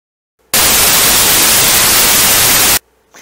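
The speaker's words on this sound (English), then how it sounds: "it generates a mono track that is just white noise." A burst of harsh, even mono white noise test tone cuts in abruptly, holds loud and steady for about two seconds, then stops dead into silence.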